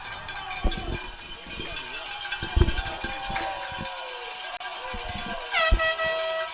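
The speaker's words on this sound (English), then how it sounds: "the cowbells and air horns are out" At a high school football game between Smyrna and Middletown, a crowd blasts air horns and clangs cowbells, with sharp horn toots and rapid metallic clanks bursting out amid cheering and general stadium noise.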